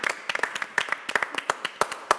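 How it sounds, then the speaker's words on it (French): Scattered clapping from a small studio audience on a French-language television show, sharp irregular hand claps close by with a faint voice underneath. "Bravo, vous pouvez vous applaudir."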